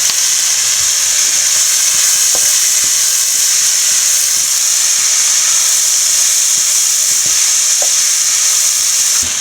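Spring onion whites fry in a hot pan for chicken fried rice, giving a loud, steady sizzle with a bright hiss throughout and a few faint clicks of stirring, with no talking.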